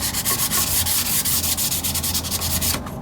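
A sheet of 1000-grit sandpaper rubs by hand across a cast iron rear differential housing on a 1997-2003 Ford F-150, a close, steady scratchy scrubbing in quick repeated strokes that stops abruptly near the end.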